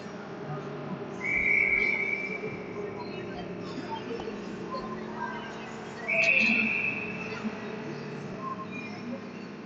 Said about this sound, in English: Noon, not sure who caused that whistle on right off the face-off.